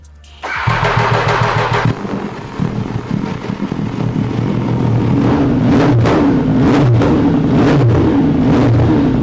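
A motorcycle with a new flame-shooting exhaust fires up for the first time: a starter whir catches into a loud, close idle, followed by rough revs with sharp popping bursts.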